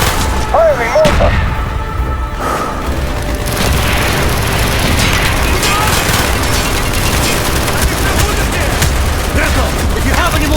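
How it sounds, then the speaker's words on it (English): Mortar fire and explosions in the Call of Duty Black Ops Project Nova video game on Xbox Series X, a dense continuous barrage of booms and gunfire with voices calling out over the battle. "Firing mortar!"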